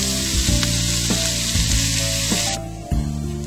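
Onions sauteing in olive oil with garlic give a loud, steady sizzle throughout, broken by a few scraping stirs, with no talking.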